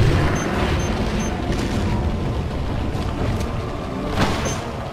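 A bazooka explosion in the video game Resident Evil 4 Remastered during the final fight against Saddler, a loud, rumbling blast with a sustained low roar and a sharp burst near the end.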